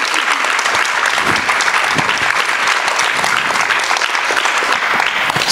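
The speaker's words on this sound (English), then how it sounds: "let's have a round of applause for these four spectacular women." Loud, dense audience applause at a jewelry talk event in New York, a full crowd clapping steadily and evenly throughout, close and continuous with no gaps.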